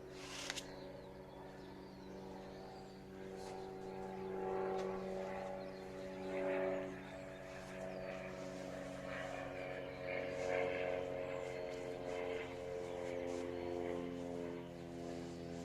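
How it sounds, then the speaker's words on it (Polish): A propeller airplane drones steadily in the distance, its low engine hum swelling and fading while someone speaks. "samolot słuchaj"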